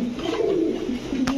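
Bezi pigeons coo in a steady, low, rolling tone, close and clear, followed by a brief sharp click near the end.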